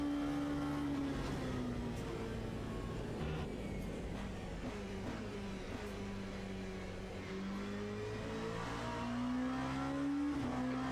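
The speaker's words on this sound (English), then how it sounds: "the engine noise is loud in my ear" Race car engines drone loud and steady in the Le Mans Ultimate sim racing game, GT3 and P2 cars, with pitch rising and falling through gear changes and corners, continuous with no talk.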